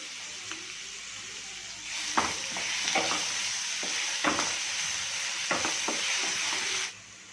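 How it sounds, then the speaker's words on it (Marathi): Peanuts and cumin sauté in a hot pan with a steady sizzle, while a spoon stirs and scrapes in several soft clatters, heard close with no talk. "आपले शेंगदाणे थोडेसे परतून झाले की याच्यामध्ये आपण जिरे घालून घेणार आहोत"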